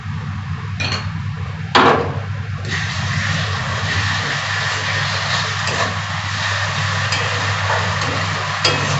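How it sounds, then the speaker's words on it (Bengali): Ground ginger, garlic and dried chilli paste fries with browned onions, a steady close sizzle broken by occasional scraping clinks of a spoon against the pan, no talking. "মশলার সাথে পেঁয়াজের সাথে মশলাটা আমি ভালো করে কষিয়ে নেব"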